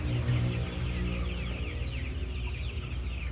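A dense flock of Kaveri gavran chickens on a poultry farm clucking continuously, many overlapping calls close by with a steady low hum underneath.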